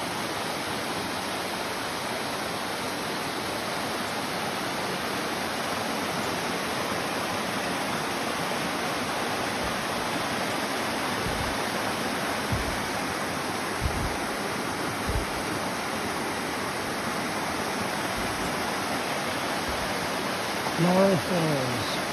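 Laurel Falls, a waterfall on the Appalachian Trail, pours in a steady, dense broadband roar of falling water that holds constant throughout, close and fairly loud, with a brief faint chirp near the end.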